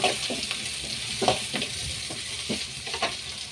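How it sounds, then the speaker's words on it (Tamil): Kurma ingredients such as onion sauté in a pan, with a spoon stirring and scraping in uneven strokes over a steady sizzle, close up and with no talk. "இது கொஞ்சம் நல்லா வதக்கிடும்."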